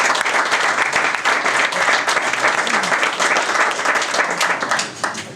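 Sustained round of applause from a gathered crowd at a carp fishing match prize giving, dense steady clapping filling the whole stretch and easing slightly at the end.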